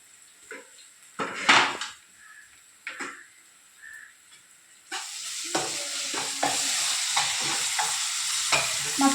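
Spices with garam masala, coriander powder and ginger paste frying in a pan for an egg pulusu, first sparse scrapes and stirring clinks, then a loud continuous sizzle with busy stirring.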